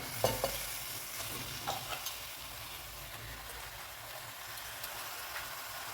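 Chicken for a Kerala-style roast frying in a pan of gravy, a steady sizzling hiss with a few soft stirring knocks near the start, moderately close and continuous.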